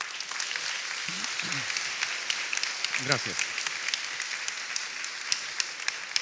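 A church congregation claps together, a steady wash of applause running throughout while a voice speaks briefly over it.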